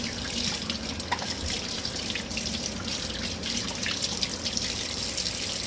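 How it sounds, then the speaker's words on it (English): Tap water running steadily into a sink during hand washing, a continuous close splashing hiss with small drips and splashes throughout, no talking. "you always want to wash your hands afterwards before you touch anything else, because that will be cross-contamination"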